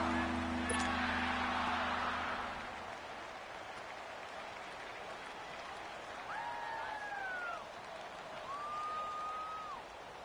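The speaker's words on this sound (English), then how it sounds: "the crowd getting into it as we come up on a big third down" A virtual stadium crowd in a Madden football game roars with cheering and applause ahead of a big third down, a broad wash that fades midway, under faint sounds.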